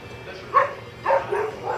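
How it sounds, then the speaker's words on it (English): Dogs give a few short, yipping barks and whimpers in separate bursts, moderately loud against quiet indoor background. "And I've got barking dogs"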